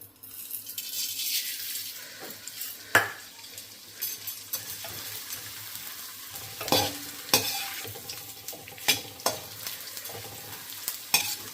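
Edible gum (gond) frying in hot ghee, a continuous sizzle with scattered sharp clinks and scrapes of a stirring spoon against the pan, no voices.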